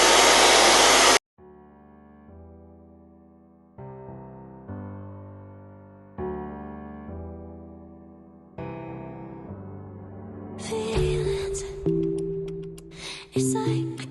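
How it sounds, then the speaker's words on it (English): A hair dryer blows on a straight wig in a short, loud burst of steady rushing air at the very start, then cuts off as a piano-led song plays on. "blow dry hair first."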